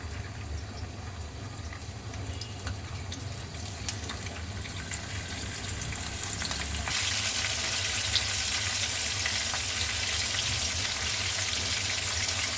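Prawns hit hot oil in a pan, raising a steady, close hiss of frying that swells noticeably louder and brighter partway through and keeps sizzling evenly to the end, with no talking.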